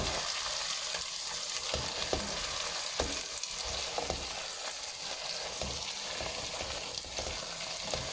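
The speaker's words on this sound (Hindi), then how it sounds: "मिक्स कर लेंगे हल्के हाथों से ताकि फ़िश के पीसेस टूटे ना" Fried fish pieces stirred gently through masala in a pan over a low flame, giving a dense continuous sizzle with soft periodic scrapes and knocks from the spoon, close and steady with no talk.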